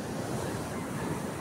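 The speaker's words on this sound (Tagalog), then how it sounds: "Nagngangalit na naman po itong dagat na ito." Surf breaks on the shore at Bangar, a steady, loud wash of rolling waves with wind buffeting the microphone and no voices.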